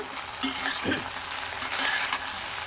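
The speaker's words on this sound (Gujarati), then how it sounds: "હલાવી દઈએ સરસ" A Gujarati vegetable curry fries in a pan and is stirred, with a steady close sizzle broken by a few scraping spoon strokes and soft knocks against the pan, and no voices.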